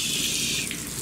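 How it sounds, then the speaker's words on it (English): A kitchen sink tap runs in a brief, steady hissing stream of water, close and fairly loud. "turn on the water"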